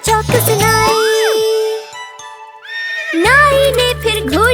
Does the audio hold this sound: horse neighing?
yes